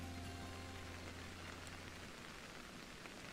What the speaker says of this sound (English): This sounds like rain.